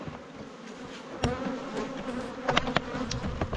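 Honeybees buzzing steadily around a hive in a mountain nuc yard, a dense continuous drone with several individual bees passing close and loud.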